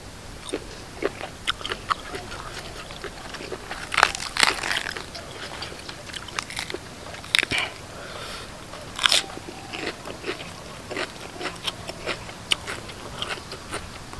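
Crunchy bites and chewing of a spicy Thai lotus stem salad with fresh shrimp, close and crisp, a series of sharp crunches in an irregular rhythm over a quiet background.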